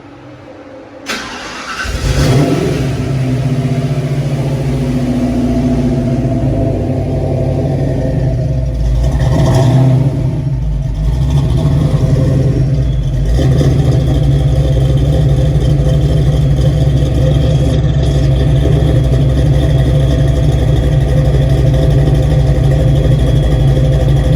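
A car engine cranks and catches, then settles into a loud, steady idle that drones on without a break.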